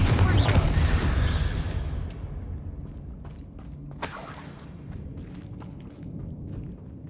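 Spell explosions from the Confringo curse in the Hogwarts Legacy video game: a heavy low boom with crackling debris at the start, then another sharp blast near the middle, over rumbling game ambience.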